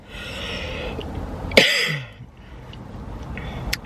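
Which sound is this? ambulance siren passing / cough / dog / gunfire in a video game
cough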